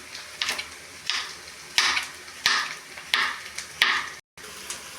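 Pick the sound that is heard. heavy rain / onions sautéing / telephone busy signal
onions sautéing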